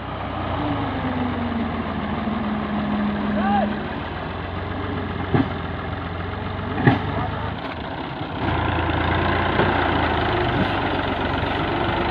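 A Fiat 480 tractor's diesel engine runs steadily nearby with a low rumble that briefly dips and then rises again. People talk over it.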